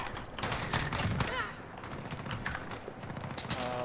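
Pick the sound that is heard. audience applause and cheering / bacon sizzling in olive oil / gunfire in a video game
gunfire in a video game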